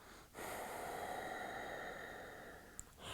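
A long, steady breath pushed out through the right nostril during alternate-nostril breathing practice, a close, soft airy rush lasting a few seconds, alone and quiet, with a short sharp sniff near the end.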